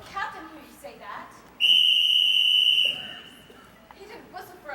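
A shrill, steady whistle blast rings out clearly for over a second, piercing and loud, in a film scene with indoor people and faint voices before and after.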